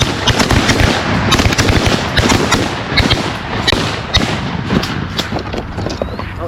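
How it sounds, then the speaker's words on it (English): Shotguns firing at mallard ducks during a waterfowl hunt, a loud rapid volley of many overlapping shots close by, with sharp cracks continuing throughout. "let's shoot at the mallards on 3"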